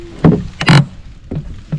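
Canoe paddle strokes in water during a day trip through the Minesing Wetlands: four close splashing pulls in an uneven rhythm, two louder strokes early and two softer ones later, with no talk.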